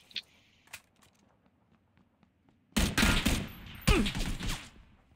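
Video game gunfire aimed at a building on a street corner: quiet scattered clicks and taps, then two loud bursts of rapid shots close by, each trailing off.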